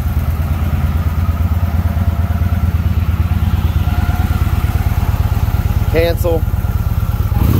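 A 2013 Victory Vision Tour ABS motorcycle engine idles loud and close with a steady, deep, rapid throb throughout, while a voice briefly speaks over it.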